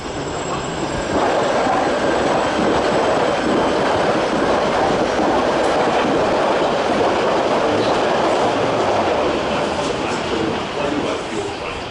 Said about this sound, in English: Metropolitan Line service to Watford.